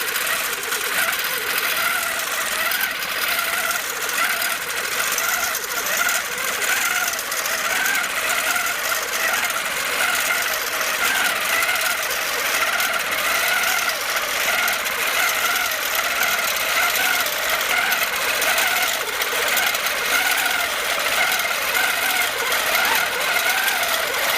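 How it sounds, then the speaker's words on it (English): A sewing machine stitches a second ribbon candy quilting row across a quilt, right to left, in a steady, continuous mechanical whir with fine rapid needle chatter and no pauses, close and alone. "So I'm going to stitch a second row from right to left this time"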